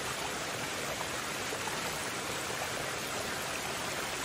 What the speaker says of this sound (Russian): Смотрите, какой у него водопад дома.